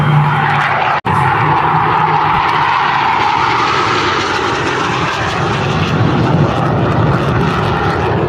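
A loud Hawker Hunter jet aircraft roars past at close range during an airshow display, its engine noise sustained and powerful from start to finish.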